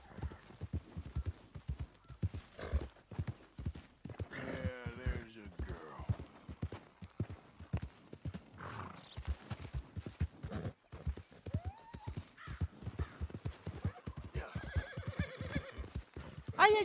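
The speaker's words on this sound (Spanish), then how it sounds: "El caballo parece una vaquita con tantas manchas" Hooves clip-clop in a brisk, steady rhythm as a spotted horse is ridden in Red Dead Redemption 2. Several loud whinnies and neighs break through, and someone talks over parts of it.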